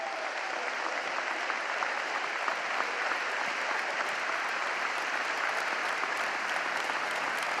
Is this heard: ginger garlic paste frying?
no